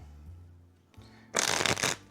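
A deck of playing cards being shuffled during a card magic routine: a loud, dense riffling burst that starts abruptly and runs for under a second, after a quieter stretch of soft handling noise.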